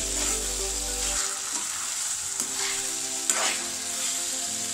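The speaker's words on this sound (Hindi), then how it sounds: "अब बस ऐसे हिलाते हुए इसका मॉइस्चर हमें सुखाना है।" Tinda (apple gourd) curry frying in a pan with cardamom while being stirred, a steady close sizzle with occasional soft scrapes of the spoon through the vegetables, no voices.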